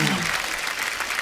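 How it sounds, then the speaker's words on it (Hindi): Studio audience applause on a comedy talk show set, a dense continuous wash of clapping throughout the short moment, loud and close with no break. "इनकी हिम्मत के लिए एक बार जोरदार तालियां"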